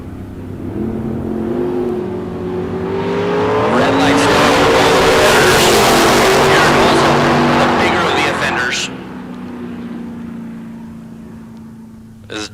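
A Torco Roadster drag race car at a bracket race launches and accelerates hard, its loud engine roar rising and sweeping in pitch for several seconds before easing off, with a race announcer talking over it throughout.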